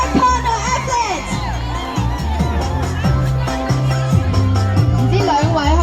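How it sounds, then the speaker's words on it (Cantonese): A crowd at a kickboxing event cheers and whoops for a fighter entering the red corner, with loud pulsing entrance music running throughout and voices shouting over it. "熱烈嘅掌聲歡迎紅方選手"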